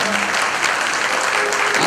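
Audience applause at a Hindi devotional discourse, a dense, steady burst of clapping that fills the whole short moment, close and loud, with no speech over it.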